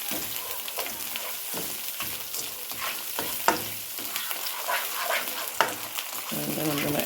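Mixed vegetables stir-frying in a hot pan for fried rice, a continuous sizzle broken by repeated scraping and tossing strokes of a utensil, close and fairly loud, with no one speaking.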